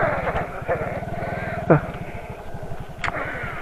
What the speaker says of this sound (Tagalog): May mga kaibigan tayo dito, mga kambing.